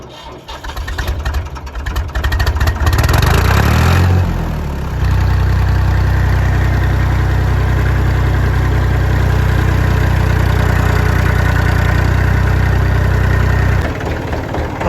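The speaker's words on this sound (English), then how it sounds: "Cold start." A Massey Ferguson tractor engine cold-starts with a rising crank and roar, revs briefly, then settles into a loud, steady low idle that runs on until near the end.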